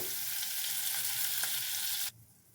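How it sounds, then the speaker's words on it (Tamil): Cauliflower gravy ingredients with a pinch of salt hiss loudly and evenly in a hot pan as they are mixed, then the sizzle drops away abruptly near the end. "எல்லாத்தையும் நல்லா கலந்துக்கலாம்."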